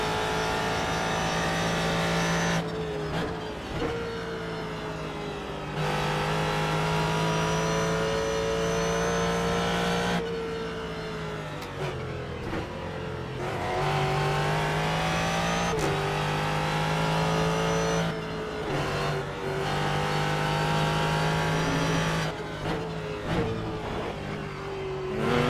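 Ford GT3 race car in the iRacing simulator at Road Atlanta, engine screaming at full throttle through repeated upshifts and brief lifts, a loud continuous in-car howl rising and dropping in pitch with each gear.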